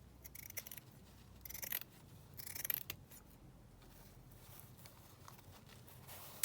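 Scissors snipping paper for a junk journal, a few quiet close cuts in short bursts over a soft hiss of room noise.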